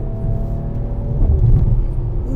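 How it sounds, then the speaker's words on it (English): Exhaust of a 2019 Mercedes-AMG E 53 4matic+ Coupé on the move, a loud deep rumbling drone that swells briefly midway before settling back. "Ooh, I love the sound of that exhaust, man."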